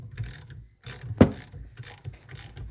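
A wrench works a tight factory nut loose on a Mitchell outdrive, sounding as a few close ratcheting and clanking metal clicks with one sharp knock in the middle, otherwise quiet.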